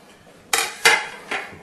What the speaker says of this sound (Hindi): तो ये जी हमने सबसे पहले डाल दिया कुकर में कीमा।